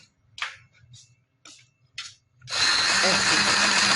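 A sewing machine starts up after a few seconds of quiet, scattered clicks and handling noises, then runs in a loud, steady whir while stitching a black trouser.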